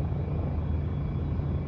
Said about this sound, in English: Afterburners engaged.